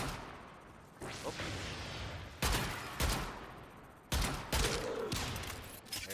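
Gunfire from a weapon in the video game Warframe, loud, close bursts of shots that break off into several sharp bangs with whooshing tails, each burst followed by a brief lull.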